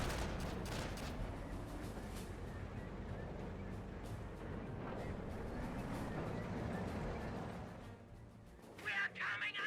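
Gunfire against infantry squads in a Company of Heroes battle between American forces and Panzer Elite: dense, dull bursts of shots crackle steadily and fairly quietly under a busy mix, thinning out near the end with a few sharper pops.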